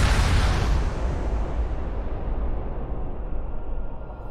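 Supernova explosion sound effect: a huge roaring blast of broadband noise that hits at full strength and then slowly thins into a long, darkening rumble, heard alone.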